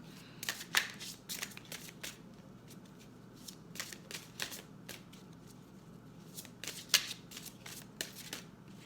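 Tarot cards shuffled by hand for a reading, with soft riffling and snapping bursts repeating irregularly, close and fairly quiet.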